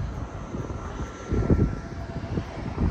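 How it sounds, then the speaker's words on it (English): An airplane on approach over downtown Nashville, Tennessee, its engine a steady broadband drone with a swelling peak midway, heard from a distance outdoors with no talking. "Got a plane coming in on approach."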